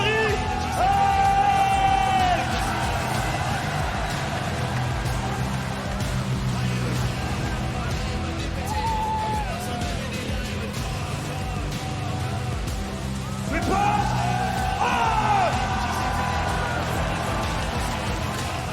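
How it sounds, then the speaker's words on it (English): An arena crowd at the League of Legends Worlds 2024 quarterfinals in Paris cheers and yells for Hanwha Life Esports and BiliBili Gaming, a loud, sustained roar with whoops rising in waves, under an announcer's excited speech. "un tonnerre d'applaudissements pour quart de finaliste, Hanwha et BiliBili Gaming!"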